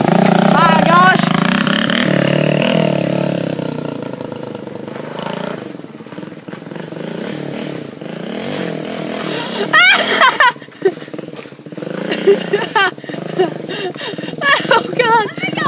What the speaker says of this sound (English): It's an off-road four-wheeler, turned half off-road, half street